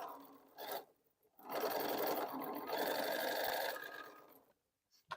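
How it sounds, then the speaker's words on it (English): A sewing machine stitches a quilt seam in short bursts: a brief run, a pause, then a longer steady whir of needle strokes, close and fairly quiet, stopping before a few faint clicks. "I have to sew a little bit."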